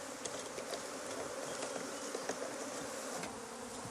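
Honeybees buzz inside a jar set up for a Varroa mite count, a dense, steady droning hum with small flickers of wingbeat, faint and close, with no voices.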